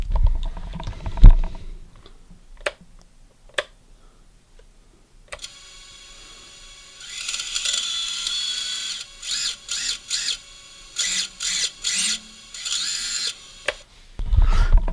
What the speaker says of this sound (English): That is the sound of a fully functioning KISS flight controller with 4 motors that are very underpowered